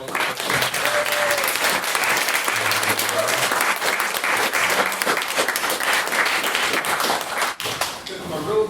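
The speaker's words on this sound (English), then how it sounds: "one more round of applause for Mr." Sustained, loud audience applause at a debate event, a thick wash of clapping hands lasting several seconds, with a few voices and brief whoops mixed in before it tapers near the end.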